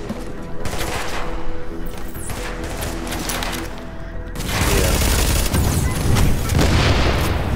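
Rapid bursts of automatic gunfire from a high-rate-of-fire weapon in a video game, with booming impacts and explosions layered in; the shooting intensifies into a dense, loud barrage in the second half.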